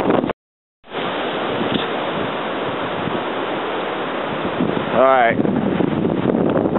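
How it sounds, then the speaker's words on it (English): Strong gusts of wind roar steadily against the microphone during Hurricane Sandy, nighttime without power beneath a tree, with a brief pause early on and a short spoken word near the end. "Got another good gust of wind in here."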